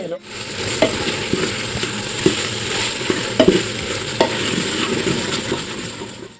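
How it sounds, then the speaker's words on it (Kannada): Ginger garlic paste frying in a pan for chicken sambar, giving a loud, continuous sizzle close by, broken by intermittent scraping stirs and light clinks of a utensil against the pan, with no one talking. "ಶುಂಠಿ ಬೆಳ್ಳುಳ್ಳಿ ಪೇಸ್ಟ್ ರೆಡಿ ತಗೊಂಡು ಹಾಕ್ತಾ ಇದೀವಿ"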